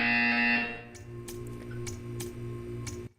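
A loud electronic buzzer from the video game Portal 2 sounds for about half a second, followed by faint ticking and clicking, then stops abruptly.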